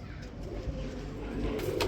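Indian Gulla pigeons coo softly at a pigeon farm, with a few low, muffled calls over faint background noise in a short stretch.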